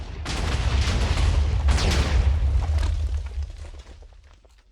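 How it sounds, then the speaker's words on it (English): A big Minecraft explosion bursts out loud and close, a dense rumbling blast that rolls on for several seconds with crackling debris before tapering off, with no voices. "Big explosion."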